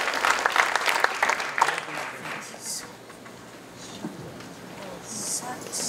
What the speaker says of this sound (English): A big round of applause for them all while they're being calculated.